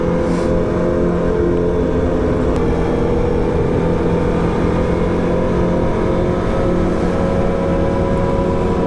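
Quad bike engine droning steadily while being ridden, a loud continuous low rumble with wind noise and no talking.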